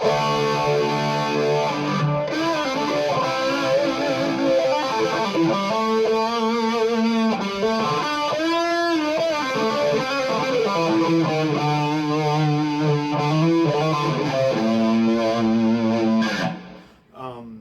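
Clean electric guitar through a Kmise Vintage Phase pedal into the front of the amp, playing sustained chords and notes with a sweeping, swirling phaser effect, continuous and fairly loud before fading at the end.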